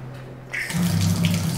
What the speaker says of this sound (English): Water supply is enough, as you can see.